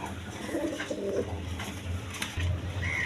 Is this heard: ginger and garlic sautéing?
no